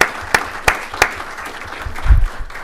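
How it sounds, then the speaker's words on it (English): Sparse applause for farmers at a county fiscal court meeting, a few distinct loud claps spaced apart near the start, then a low rumble of handling noise, no speech. "How about a round of applause for our farmers?"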